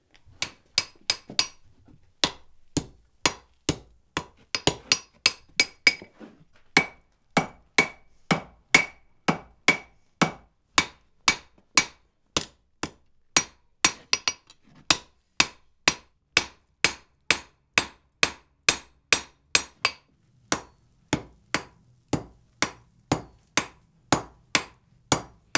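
Rhythmic hammer blows on hot wrought iron while shouldering in a door bolt at the forge, dozens of sharp ringing strikes at a steady pace, close and clear, with no talk.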